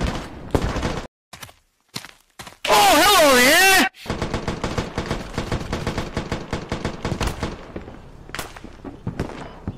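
Gunshots in the video game Squad: rapid automatic bursts and scattered single shots, fairly close and loud, mixed with a sustained siren-like tone partway through and other busy battlefield noise.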